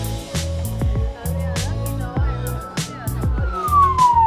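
An ambulance or fire engine siren on Cheung Chau, Hong Kong, wails in a rising and falling pattern close by, steady throughout, with a sweeping tone near the end and a voice speaking.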